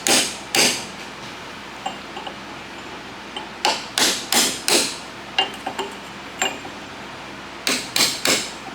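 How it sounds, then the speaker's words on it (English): Sharp metallic hammer strikes on a chisel against a CV axle part, landing in irregular bursts and quick clusters with short pauses between, close and loud. "so I got a less aggressive hammer and chisel."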